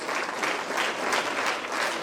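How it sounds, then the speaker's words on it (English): An audience claps for volunteers at a morning event, a brief, steady burst of applause in a crowd with no talking. "And a clap for all Saivisa volunteers who have made this morning possible"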